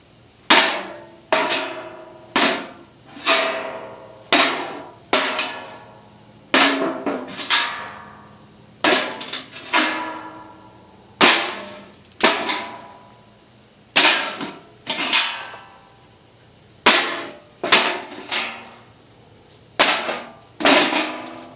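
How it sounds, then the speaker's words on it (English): A katana tip strikes a galvanized steel trash can lid again and again, each blow a sharp metallic clang with a bright ringing tail, the hits coming at a steady, near-regular rhythm, close and loud with no talk. "I'm going to test the tip one more time against a galvanized steel trash can lid to see how it performs."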